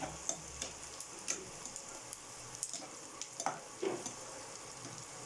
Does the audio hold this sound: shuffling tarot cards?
no